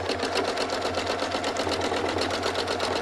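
A sewing machine stitches steadily during machine quilting, a rapid even mechanical chatter that runs continuously at a moderate level, close and alone.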